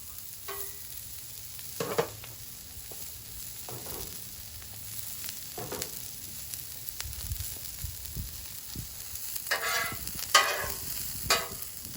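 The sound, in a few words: onions frying in oil on a griddle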